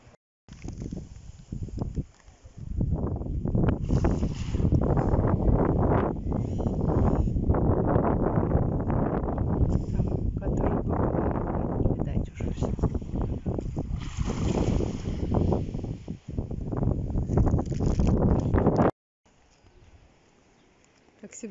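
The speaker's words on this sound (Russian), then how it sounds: "ветер сильный, и так он ледяной" Strong icy wind blows outdoors in a roaring, continuous gust that buffets the microphone, loud and rough for most of the stretch before suddenly dropping to a quiet rumble.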